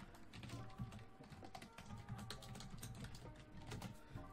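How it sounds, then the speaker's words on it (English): Rapid typing on a computer keyboard to send a chat message, a steady run of small clicks and taps through the whole stretch, fairly close but quiet, with no talking over it. "let me type chat"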